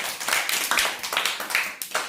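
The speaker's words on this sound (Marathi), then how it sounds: "तिच्यासाठी जोरात टाळ्या वाजवा।" Schoolchildren in a classroom clapping for a classmate, a run of quick, uneven handclaps in several bursts, close and lively, with little talk.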